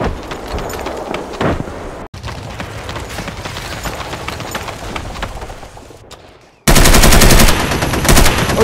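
Machine-gun fire crackles in a toy army men stop-motion battle, dense rapid bursts running almost nonstop, very loud and close, with a sudden harsher, louder stretch of fire near the end and no voices.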